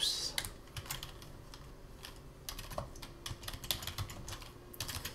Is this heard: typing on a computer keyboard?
yes